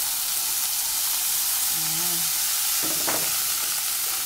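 Mushrooms sautéing with golden-browned garlic in a frying pan, giving a steady loud sizzling hiss close by, with a brief stir and a short spoken word partway through.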